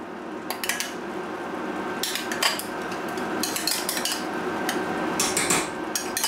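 A spoon stirs and scrapes caramel cream in a pot, with irregular metallic clinks and taps against the pot's sides and bottom over a soft continuous stirring noise.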